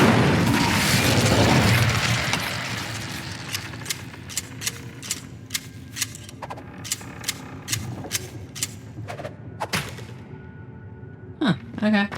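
Incendio fire spell cast in the Hogwarts Legacy video game: a loud roaring whoosh of flame at the start fading into a crackling tail, followed by a run of sharp, evenly spaced pops and clicks, with a brief voice near the end.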